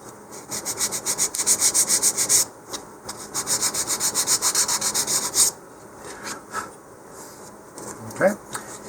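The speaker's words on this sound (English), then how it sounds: "here I'm just going to use the finer sandpaper now to square up the other edges" Model rocket parts being sanded with fine sandpaper, close-up rhythmic rasping strokes in quick bursts, pausing briefly before a second run of strokes, then a few scattered rubs.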